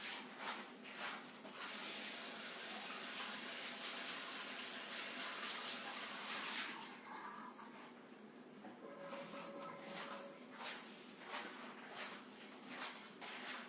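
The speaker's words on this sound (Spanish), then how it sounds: "voy a retirarla ya con agua" Tap water runs into a bathroom sink while a facial scrub is rinsed off during an anti-aging skin treatment. It is a steady rushing stream, louder at first and then softer and splashier, with no talking.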